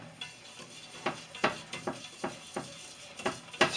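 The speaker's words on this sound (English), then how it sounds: "Now all we do is whisk it." Dry sugar is whisked in a pan for candied bacon, giving a quiet run of repeated scraping strokes in a fairly steady rhythm, close and soft, with no talking.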